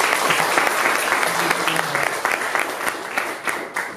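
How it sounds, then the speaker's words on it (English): Audience applause welcoming a guest speaker at a talk on synesthesia, a moderate round of clapping from a gathered crowd that stays fairly even throughout, with a faint murmur of voices underneath. "Let's give him a round of applause."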